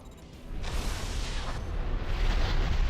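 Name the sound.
explosions in video game Armored Core 4 Answer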